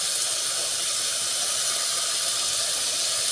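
Oil hisses steadily in a pan while aromatics are sautéed for a Filipino misua and dim sum dish; the sizzle is a continuous, fairly loud broadband hiss with no pauses and no talking.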